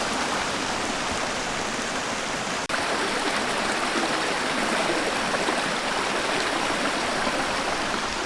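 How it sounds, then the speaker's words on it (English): Little Gap Creek, fed by a nearby lake, flows under an old bridge with a steady, dense rush of water, close and continuous, broken only by a brief dropout partway through. "This river is called the Little Gap Creek, which flows from a stream-fed lake not far from here."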